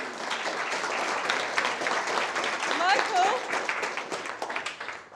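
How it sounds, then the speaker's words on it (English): A roomful of people at a social media business talk claps warmly for Michael, dense applause that holds steady and then tapers, with voices mixed in. "Give a big clap for Michael"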